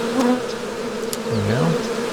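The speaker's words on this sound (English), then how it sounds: "a lot of the bees were in the air and they were swirling around the hive" Loud, close buzzing of many honeybees swirling around a newly installed hive, with individual insects swooping past and shifting in pitch as they fly.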